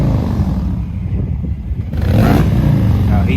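A Harley motorcycle pulls up close and rumbles at idle, then revs louder in a burst near the end. Voices are faintly present underneath.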